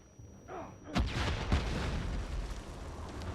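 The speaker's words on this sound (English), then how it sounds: "lots of explosions" Tank explosions in the video game Death Stranding: several heavy booming blasts, with sharp loud bursts near one and one and a half seconds over a continuous rumbling battle din.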